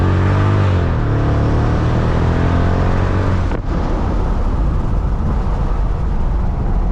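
Supercharged engine of a 2005 Mercedes CL55 AMG accelerating hard, a loud rising roar with climbing tones, a brief break at a gear change, then a renewed strong pull, heard close and without talk.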